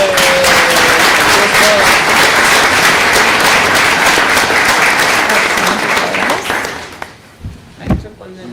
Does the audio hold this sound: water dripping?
no